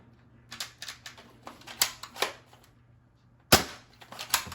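An Adventure Force Hyperspin rotating double-fire toy blaster gives clusters of close plastic clicks and snappy pops, then a brief pause and one loud sharp shot followed by a few more clicks.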